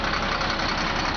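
A Volvo garbage truck with a recycling body sits at idle, its diesel engine giving a steady, even rumble up close, brief and unchanging.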